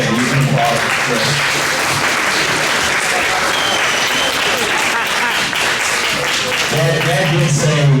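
Guests at a 50th wedding anniversary party break into sustained, loud applause that fills the room, with a few voices talking over the clapping near the start and end.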